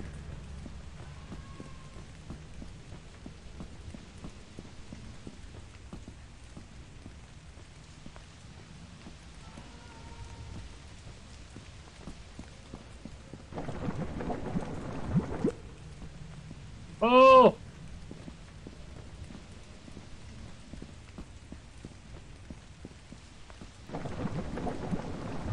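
Steady rain patters throughout while thunder rumbles in a few distinct bursts in the video game Lethal Company, and a sharp tonal game sound rings out briefly once.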